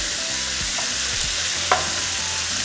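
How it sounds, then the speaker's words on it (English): Beef seasoned with black pepper and salt browns in a hot pan, a dense continuous sizzle close by with a few faint stirring knocks, no voices. "And we're just going to brown our meat."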